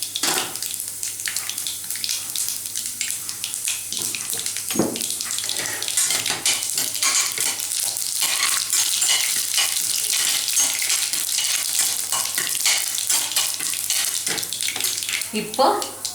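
Urad dal, chana dal and cumin sizzling in hot tempering oil, a continuous bright crackling hiss that holds steady throughout, with a brief stir or clatter in the middle.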